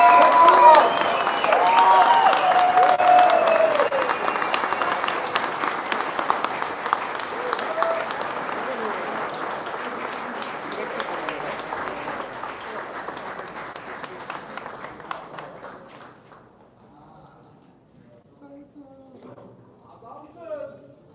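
An audience at the BMW WorldSBK team launch breaks into loud, sustained applause that gradually thins and fades over about fifteen seconds, with voices and a few scattered claps lingering at the end.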